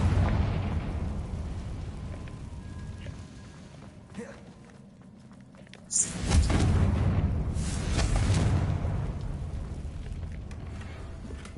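A Confringo spell explosion in the video game Hogwarts Legacy goes off as a sudden loud blast, followed by a sustained rumbling, crackling tail over steady ambient game noise.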